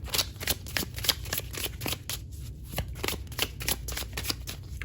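Oracle cards being shuffled for a tarot reading, a close run of quick riffling flicks and soft card slaps repeating steadily for several seconds.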